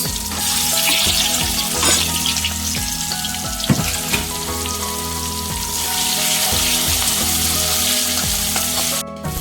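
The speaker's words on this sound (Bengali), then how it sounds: "পেঁয়াজগুলিকে এখন লাল লাল করে ভেজে নেব।" Chopped onions and garam masala fry in hot mustard-style oil for a Bengali curd fish curry, with a loud, continuous sizzle and occasional scraping stirs against the pan.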